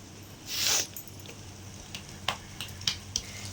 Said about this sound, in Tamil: எல்லா முட்டையும் உடச்சி ஊற்றியாச்சு ஆம்லேட் மாதிரி கொஞ்சம் சுற்றி வேகட்டும்